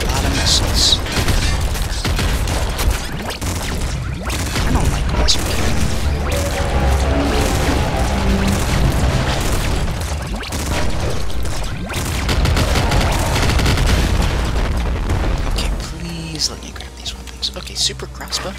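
Missiles explode in rapid succession in the twin-stick shooter Nuclear Throne, a dense barrage of crunchy blasts and booms over game music, continuing loudly for most of the clip before easing off near the end.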